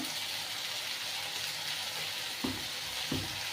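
Spice paste for a Bengali dhokar dalna sizzles loudly and steadily in a pan, with two short scraping stirs near the end.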